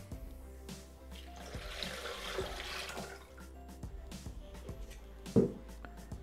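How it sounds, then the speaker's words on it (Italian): Water poured into a Thermomix mixing bowl while making pasta with tuna and ricotta, a steady splashing stream running for several seconds at moderate level, with a few light clinks and no talk. "Aggiungiamo l'acqua."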